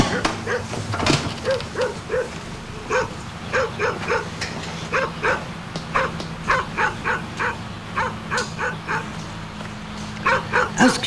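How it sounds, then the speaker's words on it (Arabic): Several dogs bark repeatedly in short, rhythmic bursts at close-to-mid distance, loud and insistent, with people's voices mixed in beneath the barking. "اسكتوا علينا ديك الكلاب هادشي"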